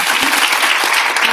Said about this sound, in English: A big round of applause for Mrs. Padma Venkat.